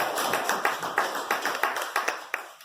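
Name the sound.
clapping for the transport minister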